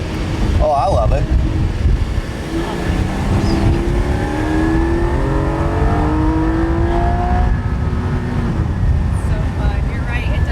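A 2021 Porsche 718 Spyder driving and accelerating, its engine note rising and shifting steadily in a continuous loud drone heard from inside the car, with road and cabin noise throughout and voices talking at times.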